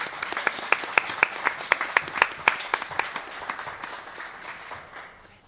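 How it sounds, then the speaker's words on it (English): A small audience at a candidate forum claps, with distinct sharp claps in a quick rhythm at first, then thinning and fading into scattered clapping. "Can we get a round of applause for our candidates"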